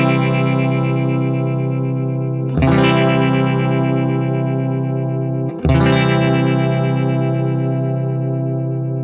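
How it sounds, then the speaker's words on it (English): An electric guitar run through a GarageBand vibrato pedal effect at default settings strikes two sustained chords that waver in pitch, each ringing out long and loud, with no talking. "So let's go ahead and take a listen to the vibrato. Of course, at the default GarageBand settings."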